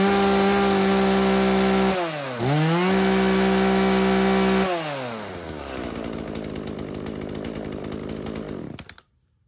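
A chainsaw engine runs loud and close, a steady buzzing drone that dips briefly and revs back up, then settles to a rougher idle before cutting out at the end.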